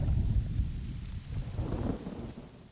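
Film sound effect of a thunderstorm with rain: a deep rolling thunder rumble swells at the start and again midway over a steady rain hiss and wind, with no voices.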